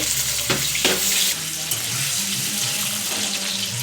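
Potatoes and vegetables frying in a pan, heard as a steady close sizzle with a few brief louder splashes and stirring sounds near the start.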